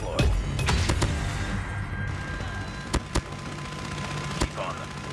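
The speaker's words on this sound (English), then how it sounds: "Sentry gun deployed." Sentry gun fire in COD Mobile, a mobile shooter game: several sharp, isolated shots spaced irregularly over busy ambient game noise, with no speech.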